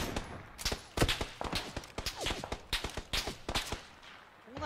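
Rapid bursts of PUBG gunfire crack out in quick succession, sharp repeated shots at varying distances forming an uneven rhythm of close and far reports with no talk.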